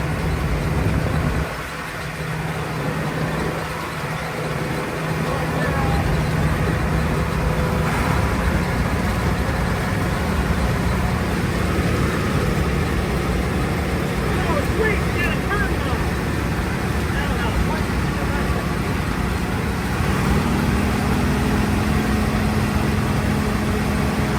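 A combine harvester, probably a 1960s machine, runs with a steady, loud diesel drone and constant mechanical rumble, a low hum shifting pitch toward the end as the throttle and header are worked.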